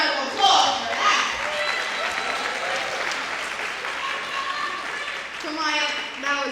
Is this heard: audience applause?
yes